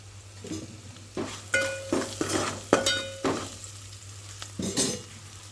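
Potato fry seasoned with turmeric being stirred in a pan: repeated scraping strokes of a spoon against metal over a soft sizzle, with occasional clinks, steady and close.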